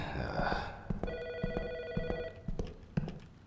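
An electronic telephone ring in the game Autopsy Simulator sounds in a short trill, accompanied by scattered clicks and thumps with faint background noise.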